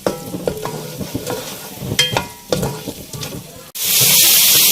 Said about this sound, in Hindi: इन सारे स्पाइसेस के साथ भी इसको हमें अपने मसाले को अच्छी तरह से भूनना है ताकि इसका कच्चापन बिल्कुल ख़त्म हो जाए